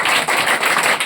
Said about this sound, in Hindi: इनके लिए भी जोरदार ताली लगा।